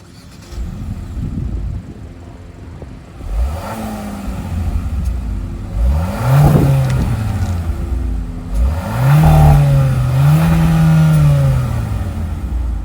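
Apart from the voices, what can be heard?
Hyundai Kona 1.6-liter turbocharged four-cylinder engine revving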